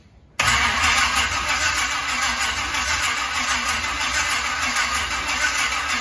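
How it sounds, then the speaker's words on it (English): A square body truck's engine catches almost at once after a brief crank, then settles into a loud, steady idle close by with no talking. "So it might legitimately actually start."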